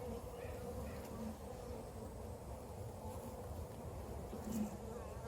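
Agitated honey bees buzzing in a steady, dense drone during a beekeeper's hive inspection done without a bee suit, close and continuous throughout.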